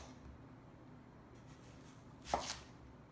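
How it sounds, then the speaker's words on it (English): A knife slices through a green tomato in one short crisp cut, quiet and close against a soft background hush, with no talking. "we're going to start by slicing the tomatoes into 1/3 of an inch slices"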